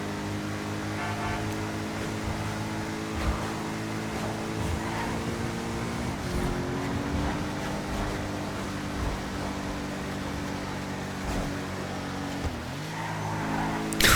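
An Übermacht Oracle V12 car driven in GTA 5, its engine droning steadily with shifting pitch as it cruises, a continuous close motor tone under faint ambient game noise.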